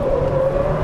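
Ariel Nomad car accelerating hard on a race circuit, a loud steady engine drone with a rising tone, heard in one short close burst.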